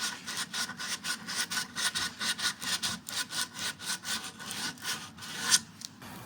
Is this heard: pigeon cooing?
no